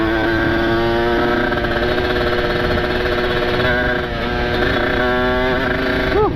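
A motorcycle with a ported engine and aftermarket exhaust runs loud and close on a busy Saturday night street, holding a steady raspy drone with a brief dip and a few revs near the end.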